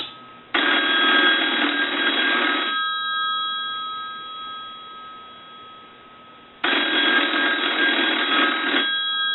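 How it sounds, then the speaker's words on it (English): A single-slot payphone bell rings twice with a long pause between, each ring a bright sustained trill over a quiet line hum. "we'll go ahead and ring the unit. We'll let that go a few times."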